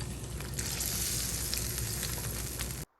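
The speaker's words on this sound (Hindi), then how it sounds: "तड़का जो है वो हमने इसके ऊपर दे देना है" Hot oil sizzles and crackles steadily for a few seconds as a tempering is cooked for purslane kadhi, close and busy, then cuts off abruptly.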